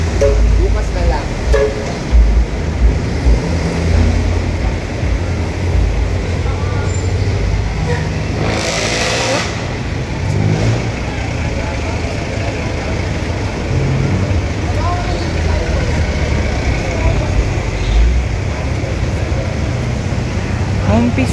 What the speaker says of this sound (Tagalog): Umpisa ng traffic pagkatapos ng ulan.